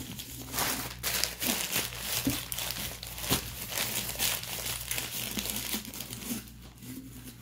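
Stuffing paper is crumpled and crinkled continuously while a package is filled, a close, steady rustle with small crackling peaks throughout and no talking.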